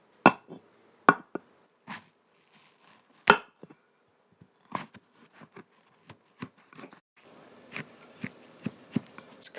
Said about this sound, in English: Now you chop careful. Enjoy your chopping.